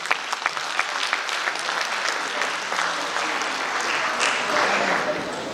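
An audience applauds at a 250th anniversary ceremony of Cantonment Board Barrackpore, a dense, sustained clapping that fills the room steadily for several seconds without pause.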